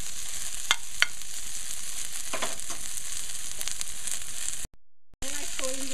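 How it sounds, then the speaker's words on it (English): Onions and seasoning frying in a pot for beef soup, a steady close sizzle with a few scraping stirs, cut by a brief gap near the end. "I mean, let it fry down a little, and then I'll be adding in the beef to have it seasoned."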